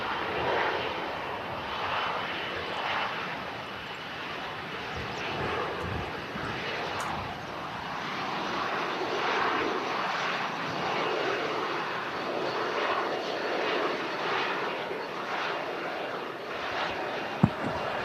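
An airliner rolls out along the runway at windy Manchester Airport, its engine roar a steady broad rumble that holds for the whole stretch, with wind noise and no talk.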